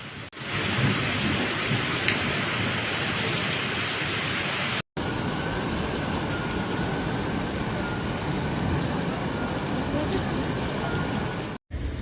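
Heavy rain pours during an Italian hailstorm with thunder, a dense, loud, continuous roar of downpour and rumbling that cuts out briefly twice, with hail striking surfaces.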